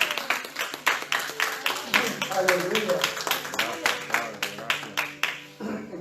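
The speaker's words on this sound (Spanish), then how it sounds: "Doy un aplauso a Cristo." A church congregation claps in a steady, rhythmic stream of sharp hand claps, fairly close, while someone speaks and calls out over the applause.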